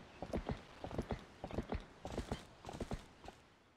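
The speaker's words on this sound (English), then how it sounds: "I was so good at riding horses in this game." Hoofbeats of the horse Epona galloping in the video game Zelda Twilight Princess, quick rhythmic clip-clop in uneven bursts over a light noisy backdrop, with no talk.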